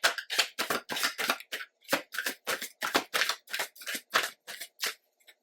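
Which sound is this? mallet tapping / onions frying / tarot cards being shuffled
tarot cards being shuffled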